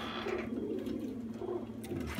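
Pigeons in a dark dovecote at night give soft, repeated low cooing over a steady hum of background noise, with no talk.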